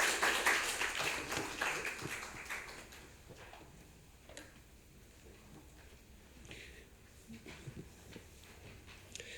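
A forum audience at a social economy policy event applauds, loud dense clapping at the start that fades to scattered claps and light taps.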